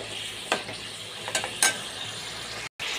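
Chicken being fried bhuna-style in a pan, a steady close sizzle with a few brief scraping strokes of the spatula, then a short cut to silence before the sizzle resumes.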